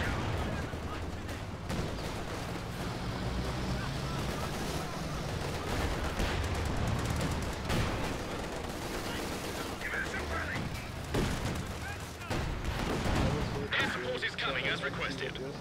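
Tank guns fire in a Company of Heroes 2 battle: repeated loud booms and battle noise under nearly constant voices.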